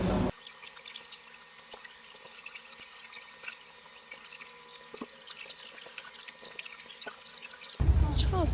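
Rain falls outside in a steady, soft crackling patter, with scattered heavier drips throughout.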